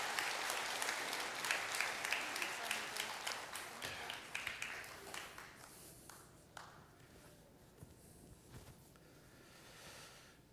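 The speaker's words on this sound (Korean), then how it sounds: "우리 큰 박수로 우리 축복해 주시기 바랍니다" Church congregation at a Sunday worship service in Seattle applauds as a blessing after a prayer for a family, a dense wash of clapping that starts strong and gradually thins and fades over ten seconds.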